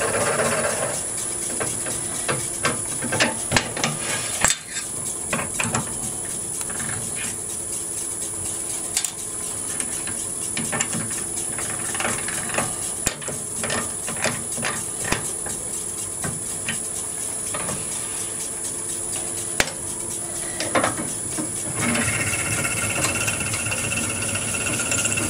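Wood being drilled on a lathe, with the bit held in a Jacob's chuck while turning a pen carousel: a steady whirring, hissing machine drone with faint tonal whine, continuous and fairly close for about 25 seconds, with no talking.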